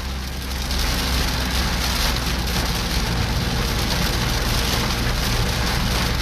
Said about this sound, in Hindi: अब फुल बारिश थी तेज